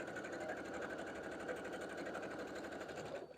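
A sewing machine stitches quilt block pieces together, running at a fast steady rhythm of rapid needle clatter, close and continuous before stopping at the end.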